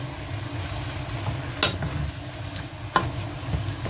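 Pork and vegetables for a spinach and pork dish frying in a pan while being stirred, a steady close sizzle with two sharp scraping clacks of the utensil against the pan.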